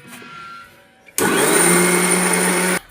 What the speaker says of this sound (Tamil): இப்போ ஜீரகத்தை போட்டு ஒரு ரவுண்டு அரைச்சிக்கலாம்